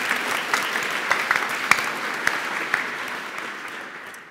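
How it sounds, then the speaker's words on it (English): A conference audience at PyCon UK lightning talks gives a short round of applause, a steady mass of clapping with a few sharper individual claps that fades toward the end. "A quick round of applause,"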